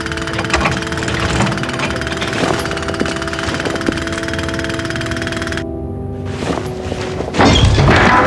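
In a video game scene, a jackhammer pounds steadily outside a building, a continuous loud rattling drone with occasional heavy thuds, ending in a louder burst of banging.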